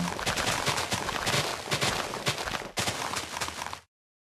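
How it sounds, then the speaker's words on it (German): Gunfire in the Minecraft SkyFactory 4 modpack, a dense burst of loud, sharp cracks filling the whole clip with a brief dip near the end, no voices. "Das sind zwei Schüsse."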